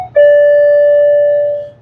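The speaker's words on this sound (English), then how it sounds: "right next to where the bell is, the door entry thing is." Single loud electronic door entry chime inside a shop, one sustained clear tone that rings on for over a second before fading out, heard alone.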